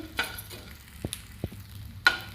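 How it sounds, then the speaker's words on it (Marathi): Edible gum frying in ghee over medium-low heat, giving a faint, steady sizzle with a few sharp clicks and scrapes from stirring, all fairly quiet. "मिडियम टू लो गॅसवरतीच आपण डिंक छान तळून घ्यायचं आहे भाजून घ्यायचं आहे तुपामध्ये"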